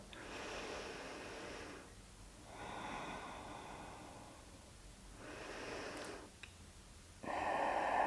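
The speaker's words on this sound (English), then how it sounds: "Let's take 2 more deep breaths here." Slow, deep breathing during a yoga session, long audible inhales and exhales alternating in a calm rhythm, close and fairly quiet.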